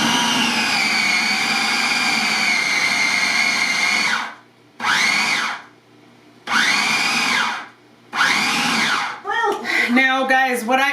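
A blender or food processor chopping shredded beef for tamales runs steadily for about four seconds, then gives three short, loud pulses with brief pauses between them. A voice starts talking right after the last pulse.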